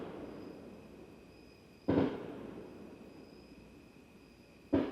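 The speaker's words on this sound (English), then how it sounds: "Someone is shooting off fireworks while I'm trying to film." Two sharp firework bangs go off close by, a few seconds apart, each a loud crack trailing a brief rumble over a quiet background with a faint steady hum.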